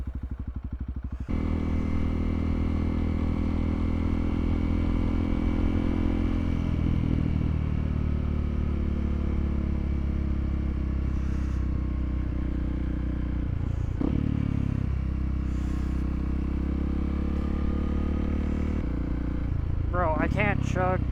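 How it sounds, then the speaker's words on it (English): A Honda CRF300L motorcycle engine chugs steadily at low speed close by for a long stretch, a constant droning note with scraping clatters, as a rider talks over it. "I can't chug at like 20 miles an hour"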